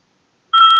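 A short electronic beep assigned to an Adobe Flash button, starting abruptly after a moment of silence and holding a steady, loud tone with a slight pulsing flutter.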